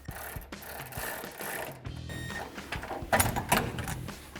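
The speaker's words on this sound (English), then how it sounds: "grab a 14mm wrench on the bolt side and a 14mm socket on the nut side and tighten that down" A 14mm wrench and socket ratchet tighten an exhaust bolt and nut on a Chevrolet Silverado 1500 dual exhaust install, producing close, irregular metallic clicks and clanks with brief pauses between.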